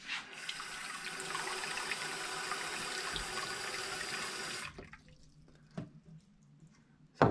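Warm water pouring steadily into a container holding a celery stalk, a continuous close splashing stream for several seconds that stops abruptly, followed by a few faint drips and a brief knock.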